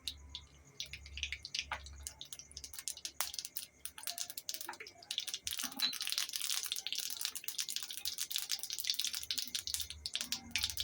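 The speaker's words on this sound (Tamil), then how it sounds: "கடுகு பொரிஞ்ச பிறகு" Mustard seeds popping and spluttering in hot oil in a pan, the first step of a tomato chutney. Dense, fast crackles close by build up and grow louder through the second half, with no talking.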